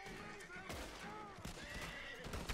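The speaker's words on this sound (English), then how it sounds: "He shows up and starts shooting me." Gunfire in the video game Red Dead Redemption 2, a few sharp shots spread across a couple of seconds, mixed with horse sounds and a busy game soundscape.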